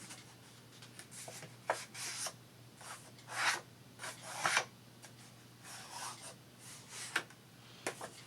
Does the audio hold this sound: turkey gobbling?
no